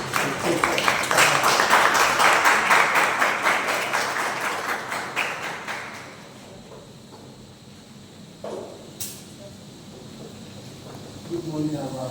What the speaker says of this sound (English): So let's clap for him as he comes up to take.